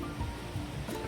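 Steady rushing water from a mountain waterfall dropping straight down from the peak on a high Himalayan trek, a continuous broadband wash heard from moderately near with no talk over it.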